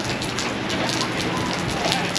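Steady rain falls during an outdoor Donut Mile running event, a continuous, fairly loud hiss of drops spattering on surfaces that holds evenly throughout with no pauses.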